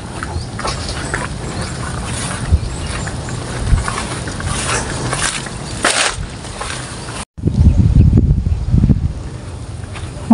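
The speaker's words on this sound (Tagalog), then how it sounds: "Masyado nang mahangin mga kapulso." Strong outdoor wind rushes and rumbles across the microphone near water, a continuous loud broadband roar that cuts out briefly and then returns in heavier low gusts.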